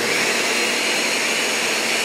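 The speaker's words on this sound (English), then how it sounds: "the blender's normally pretty loud" A blender whirring loudly while blending a smoothie, a dense steady motor roar with no pauses or speech.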